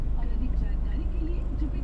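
Steady road traffic rumbles past a parked Force Gurkha 5-door SUV, a continuous low engine drone with passing vehicles nearby, while someone talks over it.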